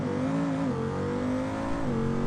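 A Bruckell Bastion in BeamNG launches off the trans brake with nitrous. Its engine holds a loud, steady, continuous roar with harmonic tone, and the pitch dips and rises a couple of times as it pulls hard.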